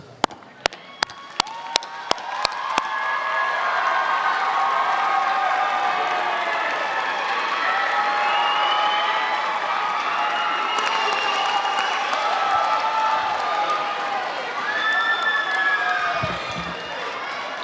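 Steady applause from a large crowd at a college commencement fills the space for many seconds, broad and sustained, after a few sharp claps at the start.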